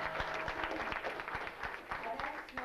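An audience in a community gathering of Sardinian emigrants at Niagara breaks into scattered applause, with distinct claps at a moderate distance, fairly quiet, and voices murmuring underneath.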